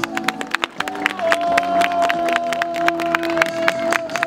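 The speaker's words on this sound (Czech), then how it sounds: "Pojďte ho přivítat potleskem" A crowd at an outdoor New Year's fireworks event claps to welcome a guest, with sharp, loud individual claps over steady tonal music and some voices.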